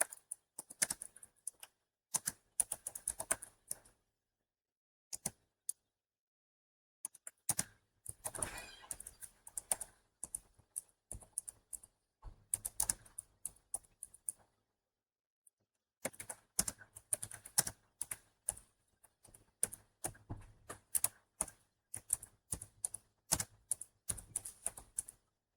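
Commands typed on a computer keyboard in short bursts of quick, close key clicks separated by silent pauses, no speech.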